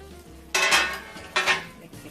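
Scallion, thyme, scotch bonnet pepper and white onion stirred into a pot of coconut curry chicken cooking in coconut oil, two loud close scraping sweeps with a soft sizzle beneath, no talking.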